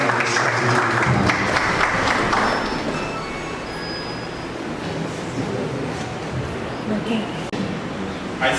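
An audience at a national stakeholders symposium applauds to receive a speaker, a broad, continuous rush of clapping that fades gradually over several seconds with a steady low rumble underneath and a few faint tonal whistles.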